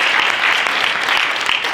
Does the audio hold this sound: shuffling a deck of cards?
no